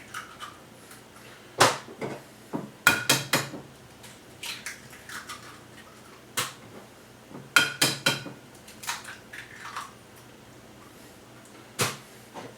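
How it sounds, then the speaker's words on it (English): Three eggs are cracked one after another into a bowl in a home kitchen: sharp taps and clicks of shell against the rim, scattered in small clusters with quiet gaps between them, fairly close and with no talking. "taking my 3 eggs that I do and cracking them all up, putting them in the bowl"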